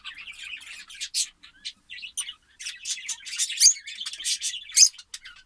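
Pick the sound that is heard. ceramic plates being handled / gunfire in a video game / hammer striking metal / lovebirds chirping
lovebirds chirping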